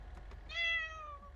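A house cat gives a single short, clear meow, rising then falling, close by and fairly quiet, preceded by faint soft chirps against a low steady hum.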